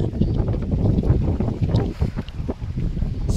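Wind rushes steadily across the microphone with low, buffeting rumble, alone and moderately loud, rising and falling slightly over a few seconds, at a coastal rock formation in Cabacungan, Allen, Northern Samar.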